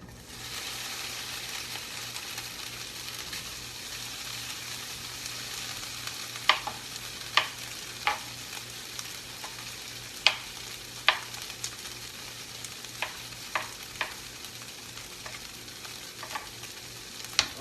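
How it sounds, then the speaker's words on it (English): Small bite-size tofu cubes frying unseasoned in grapeseed oil in a hot pan, a steady even sizzle with scattered crisp pops and spatula clicks at irregular intervals; nobody talks. "I'm gonna do small size cubes like so that it's bite size for the nacho. Add it to the hot pan."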